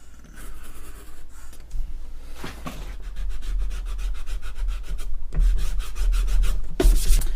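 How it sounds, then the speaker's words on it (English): Rubbing out a line on a landscape painting, a dry scratchy friction that builds in bursts and grows louder toward the end, close up, with no talking. "we can rub out that line there"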